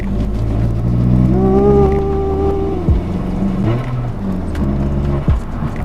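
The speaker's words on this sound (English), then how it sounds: "When the turbo spools, this thing shoots off like a rocket, and that diverter valve makes it so dramatic with the little psh" A tuned MK1 Skoda Octavia vRS with an APR Stage 2 tune, lighter flywheel and stronger clutch pulls hard, its loud, close engine note rising with a whistling turbo spool and then dropping off sharply, followed by another rise and a quick cut.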